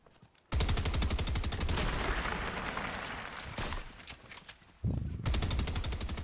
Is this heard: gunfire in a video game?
yes